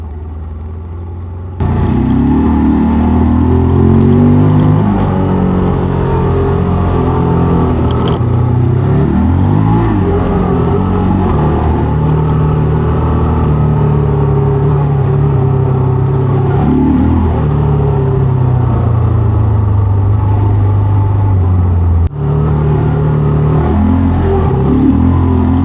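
A motorcycle rides along winding Slovenian forest roads, its engine starting with a sudden rise and then droning steadily and loudly for the rest of the ride, with pitch shifts as it accelerates and eases off through curves.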